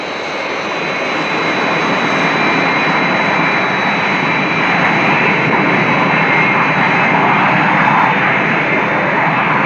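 An aircraft on its approach to Nice Airport gives off a loud, steady jet engine roar that holds evenly throughout, with no talk over it.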